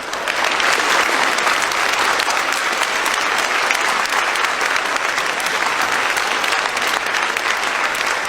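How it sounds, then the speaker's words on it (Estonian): Steady, dense applause from a theatre audience for an actor of the Vanalinna stuudio, a continuous wash of clapping hands that holds at an even, fairly loud level throughout with no pauses. "Talle meeldib, kui plaksutatakse."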